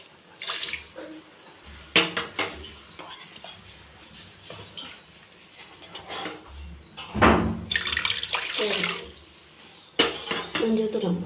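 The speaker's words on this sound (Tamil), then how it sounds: "அளவுக்கு தண்ணி ஊற்றிக்கோங்க" Water is poured into a kadai in a home kitchen while making coconut candy, coming as several uneven splashing pours separated by pauses, with a voice talking over it.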